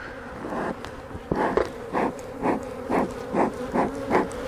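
Honey bees from a rather defensive colony buzz around an open hive being supered in spring, a dense steady drone with close fly-by swells rising and falling roughly every half second, and no talking.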